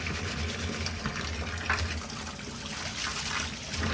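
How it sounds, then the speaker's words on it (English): Water running and splashing steadily while a cycling shoe is scrubbed clean of dirt, a continuous close wet hiss with faint rubbing, no talking. "we're just going to scrub all that dirt out of there, give us a nice clean slate"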